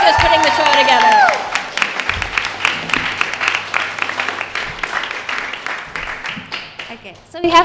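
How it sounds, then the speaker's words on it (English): Audience applause at a live Q&A panel with the crew of The Owl House at Gallery Nucleus, loud dense clapping that swells after a brief opening tone, then thins into scattered claps over crowd murmur and chatter. "please give them a huge round of applause for putting this together"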